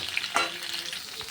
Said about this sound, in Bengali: লবণটা দিয়ে একটু নাড়াচাড়া করে নিলাম।